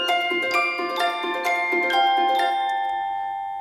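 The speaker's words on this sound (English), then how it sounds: "First, the celesta and the arp" Celesta and harp play a twinkling Christmas music layer, bright plucked and chiming notes in a steady pulse of about two per second, ringing out and decaying alone over the last second.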